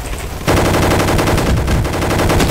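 Rapid automatic gunfire from a gun in the Roblox shooter Gunfight Arena starts abruptly after a quiet half second, then runs as a dense, loud, continuous burst of shots to the end.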